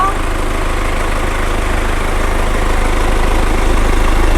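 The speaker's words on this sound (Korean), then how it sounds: "엔진 소리 역시도 매우 일정합니다." A BMW X1 20d xDrive E84 diesel engine idles at a steady, even rumble, loud and close, with a constant low hum and no change in pace.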